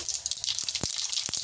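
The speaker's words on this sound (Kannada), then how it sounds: "ಎಣ್ಣೆ ಕಾದ ನಂತರ ಸಾಸಿವೆ," Mustard seeds sizzling in hot oil for ginger chitranna: a continuous hiss with a few sharp pops and crackles, close and moderately loud, no talking.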